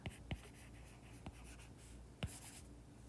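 Marker or pen strokes on a board while writing out a physics example answer, a few faint scratchy taps and squeaks spaced irregularly, close and quiet, with no speech.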